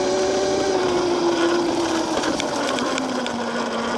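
A VALTINSU EM5 electric dirt bike climbs a hill, its motor giving a steady high whine that slowly drops in pitch under load, with wind and rattly off-road clatter around it, close and fairly loud.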